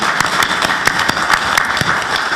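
Audience applause at an international live panel discussion, a round of sustained clapping with distinct sharp claps standing out, close and fairly loud.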